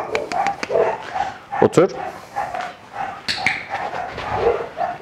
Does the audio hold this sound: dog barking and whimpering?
yes